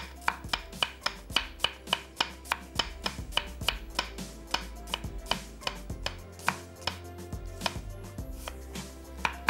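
A knife finely slicing two onions on a board, steady rapid chops close up, about two or three strokes a second, with no talking.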